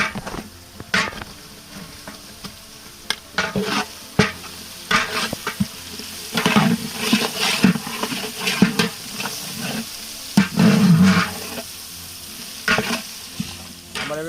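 Chopped onion and crushed garlic frying in a pan for a village-style Odia fish head ghanta, loud sizzling with repeated scraping stirs and clinks of a spoon against the pan.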